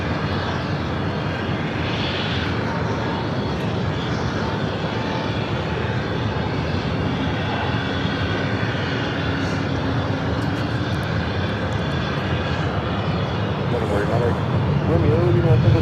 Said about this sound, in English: SAS taking off on the south side.